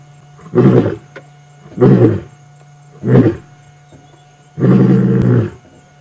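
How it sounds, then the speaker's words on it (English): A male lion on the move during a sunset safari roars in four deep, loud grunting bursts at close range, each separated by a short pause, with no talking. "let's go back to a male lion on the move."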